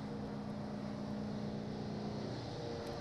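Giant mining haul trucks, some seven metres tall, pass with a steady deep diesel drone and a continuous broad rumble, with no voices.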